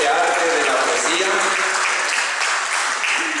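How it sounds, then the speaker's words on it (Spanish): An audience at a poetry reading and discussion gives sustained, steady applause, loud and close throughout with a dense wash of clapping and no pauses. "Un aplauso a este joven."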